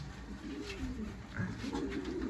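Pigeons coo softly and repeatedly close by, low murmuring calls overlapping against a steady background hum, with no speech.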